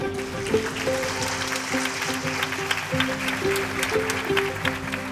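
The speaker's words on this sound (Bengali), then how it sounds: "একটু জোরে হাততালি দেন" An audience at the Meril-Prothom Alo Award 2024 ceremony claps steadily, while tonal music or voices ring faintly over the applause.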